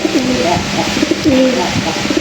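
A pair of pigeons, male and female, coo repeatedly in low, rolling calls, close by, with a steady background hum and some faint chatter.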